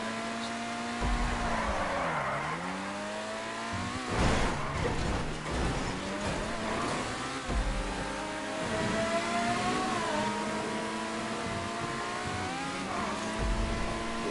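A car engine in GTA 5 Online revving and accelerating steadily, pitch sweeping up and down through gear-like rises, with a brief mechanical clatter partway through, loud and continuous with no talking.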